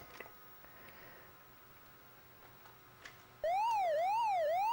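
Warbling siren effect from the Pac-Man arcade video game, a loud electronic tone sweeping up and down in steady repeating waves, cutting in abruptly after a stretch of faint background hum.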